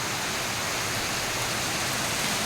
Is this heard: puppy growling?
no